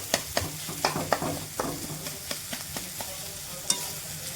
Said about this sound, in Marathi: हे जे बटाटे आहे भाजून घेतलेले ते टाकून व्यवस्थित परतत राहायचं